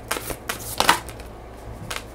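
Oracle cards being shuffled in the hands during a reading, a run of quick papery riffles and flicks with a louder burst in the middle, close and fairly clear.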